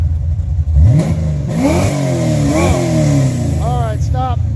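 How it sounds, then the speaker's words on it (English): Car engine revving repeatedly up and down while the carburetor is being tuned, loud and close, each rise in pitch followed by a drop back toward idle. "Rev it up."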